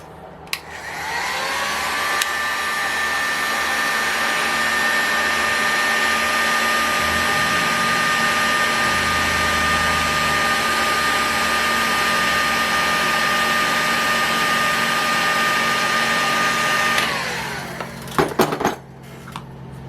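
A heat gun blows steadily close by, heating 2mm fasteners on a Saito FA-300T model engine during disassembly. It is a loud, continuous whine and rush that starts after a second, holds for about sixteen seconds, then cuts off with a few clunks.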